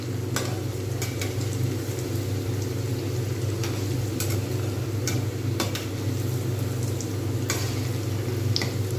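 Vegetable cutlets fry in oil with a continuous close sizzle, punctuated by occasional light ticks and clicks of a utensil.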